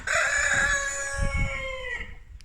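Young seventeen-week-old hens in a coop give off a drawn-out crowing, clucking call with harmonic tones, close and clear, fading near the end.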